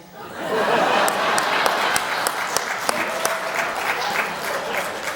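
Audience applause and light laughter after a joke in a French comedy show, a full, steady burst of clapping from a crowd that holds for several seconds with scattered chuckles.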